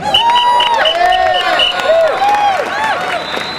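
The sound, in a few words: audience applause and cheering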